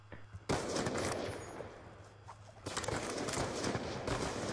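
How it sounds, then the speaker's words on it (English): Dense bursts of rapid automatic gunfire and bullets in a video game shootout, loud and continuous with a short lull in the middle before the firing picks up again. "there's so many bullets going around me"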